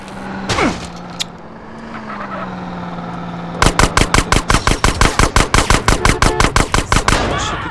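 Gunfire in GTA San Andreas: after a quiet stretch with a passing whoosh and a hum, a fast, loud burst of repeated shots hammers on for several seconds in a steady automatic rhythm.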